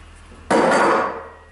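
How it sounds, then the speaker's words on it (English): An impact driver snugs a top bolt into a metal table base, giving one sudden loud burst of whirring, rattling hammering that runs about half a second, then fades and trails off. No one speaks. "I've just got an impact driver. Just tighten that top bolt."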